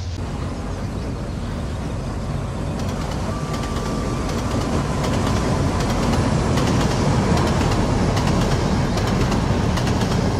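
A video game train (Trainz 12) rumbling steadily along the rails, a continuous dense roar with faint clicks and a brief tonal whine partway through.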